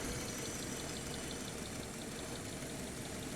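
A Subaru with about 105,000 km idles just before stalling, a steady, even engine drone with faint rhythmic ticking, continuous and fairly quiet, with no voices.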